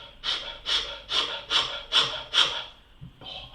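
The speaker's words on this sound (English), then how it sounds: "So you would focus on your inhale, like your Wim Hof or dragon or fire breathing type styles." Rapid, rhythmic inhale-dominant breathing of the fire or dragon breath style, six forceful breaths in a steady pulse about every half second, then a brief pause and a seventh, close and fairly loud with no talking.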